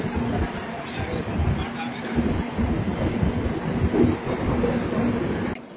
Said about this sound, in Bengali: রঙ্গিয়া জংশন ক্রস করার পর থেকে আমাদের ট্রেন 110, 112 মানে 110-12 কিলোমিটার প্রতি ঘন্টা স্পিড নিয়ে এখন রান করছে